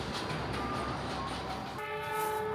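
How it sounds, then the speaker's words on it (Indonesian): Horn of the Parahyangan passenger train K132 from Gambir to Bandung, made up of Gajayana carriages, near the high Cisomang bridge: a sustained tonal blast rising out of steady rumbling noise near the end. "sudah terdengar ya kereta api Parahyangan nomor K132 dari Gambir tujuan akhir stasiun Bandung dengan rangkaian kereta Gajayana"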